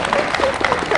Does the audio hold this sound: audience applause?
yes